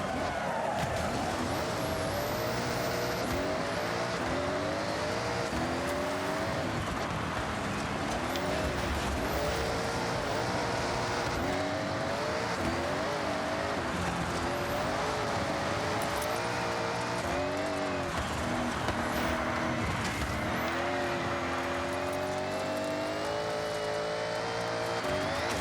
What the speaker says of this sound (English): 195 miles an hour in a pickup truck.